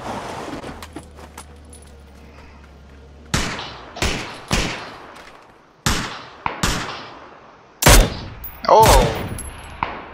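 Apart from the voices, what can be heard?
M249 machine gun fire in PUBG video game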